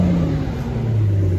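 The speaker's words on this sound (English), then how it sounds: "sound, but not so loud that's annoying." A car engine fitted with an MBRS exhaust runs at a cold-start idle, a low steady rumble that sags slightly in pitch over a brief moment.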